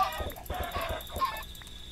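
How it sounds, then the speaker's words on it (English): Chickens clucking in the video game Minecraft, a few quick close clucks in a brief burst with a faint background tone, no talking. "Good on you, chickens."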